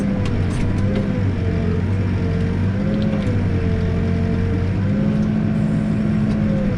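A Kenworth truck engine runs nearby with a loud, steady diesel rumble whose pitch rises and falls slightly as the revs change.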